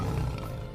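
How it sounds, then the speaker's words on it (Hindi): Low, rumbling growl from Stripe Fang, a cartoon tiger, sustained and close for a brief moment with a steady, heavy tone. "स्ट्राइप फैंग बाघ धीमी गरज।"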